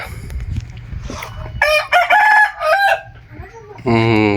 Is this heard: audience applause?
no